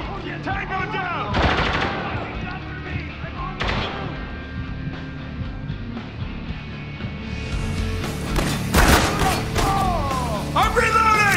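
Rapid gunfire in the shooter game Spec Ops: The Line, dense bursts and heavy blasts layered with shouting voices and battle clutter, loud and continuous with sharper volleys near the start and end.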